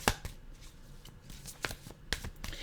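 A deck of tarot cards is shuffled up close, crisp riffles and slaps in quick irregular bursts over a quiet room.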